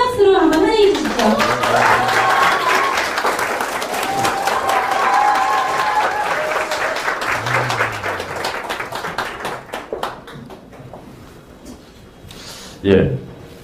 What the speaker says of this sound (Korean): 큰 박수로 한번 환영해 주십시오